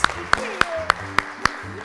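Applause on a TV quiz show, heard as six crisp, evenly spaced claps with a ringing edge over a quiet background.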